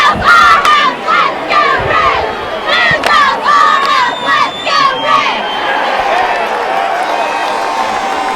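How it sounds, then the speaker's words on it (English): A crowd of high school students at a football game, Big Red vs Massillon, shouts a cheer in loud rhythmic bursts of chanted syllables, followed by a softer roar. "Take us out with a cheer."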